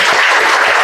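An audience applauds at a teacher certification session in a vocational school, a short, steady burst of many hands clapping together, loud and close.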